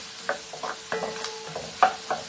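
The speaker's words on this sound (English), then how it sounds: "you're also going to add these little dry red chilies, okay? You're going to keep sauteing this" Dry red chilies and vegetables sautéing in a pan for an Indian Chinese dish: quiet background sizzle broken by several sharp scraping stirs and light clinks of a spatula against the pan, spaced irregularly.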